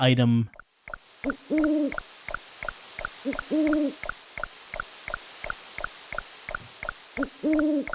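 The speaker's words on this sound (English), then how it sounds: "Hearing the owl hoot at night" An owl hoots repeatedly at night in a video game, a soft low double hoot recurring every couple of seconds over a quiet rhythmic ticking background, after a brief opening noise and a word of speech.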